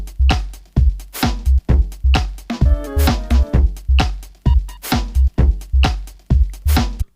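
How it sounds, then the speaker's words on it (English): An electronic track with a sampled drone under pitch-shifter modulation: a steady rhythmic pulse of punchy low hits, with a warbling, wavering tonal layer that bends in pitch partway through, loud and continuous. "the drone sample continues with the pitch shifter modulation"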